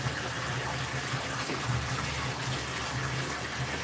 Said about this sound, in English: I fill it up with scalding hot water, a little bit of soap